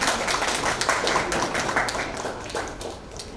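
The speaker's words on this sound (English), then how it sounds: "Round of applause," Scattered clapping from a modest audience at a fashion award panel discussion. The claps are uneven and fairly close, rising and dipping over a few seconds and thinning toward the end.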